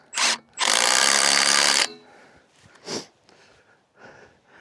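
A power tool tightens a metal brace band around a barbed wire fence post, giving one short burst followed by a steady whir of about a second, then faint scattered handling noises outdoors.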